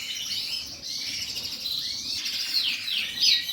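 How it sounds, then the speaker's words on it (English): Canaries in breeding cages, cock birds beside hens, chirping and trilling continuously with bright, rapid warbling phrases that grow louder toward the end, clear and close indoors. "I now have all my canaries in their breeding cages"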